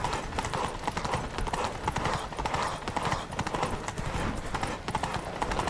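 Horses' hooves clip-clop steadily along a road in The Witcher 3, a dense, continuous clatter of several animals at close range with faint voices underneath.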